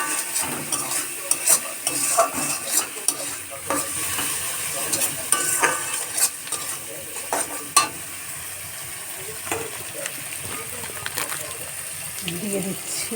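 Chicken being dry-fried as kosha with turmeric and no water, stirred steadily in a pan with a continuous sizzle and repeated scraping strokes, close and moderately loud.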